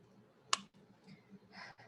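A single sharp click of a calculator key being pressed during a precalculus lesson, brief and fairly faint against quiet room tone.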